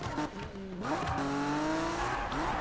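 A Toyota Supra in the 2015 Need for Speed racing game revs and shifts through gears, its engine tone rising and falling in quick sweeps with brief tire squeal, loud and close.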